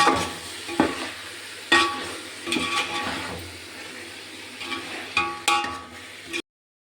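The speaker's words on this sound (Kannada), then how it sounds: "ಚೆನ್ನಾಗಿ ತಿರುಗಬೇಕು." Food is stirred hard in a cooking pan with a utensil, making steady scraping and a low sizzle marked by repeated sharp knocks against the pan, close and fairly loud with no talking, before cutting to silence.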